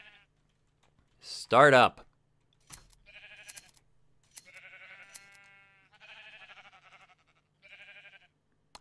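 Minecraft sheep bleat, one loud wavering bleat near the start and then several quieter electronic-sounding bleats, with a few keyboard-like clicks and a brief spoken remark.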